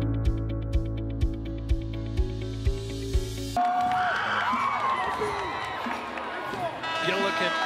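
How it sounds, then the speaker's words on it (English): The Mitchell cheering section roars at a boys' high school basketball game inside the Sanford Premier Center, a loud, sustained crowd of shouts and cheers that follows rhythmic musical beats. "Get a look at the Mitchell cheering section here inside the Sanford Premier Center"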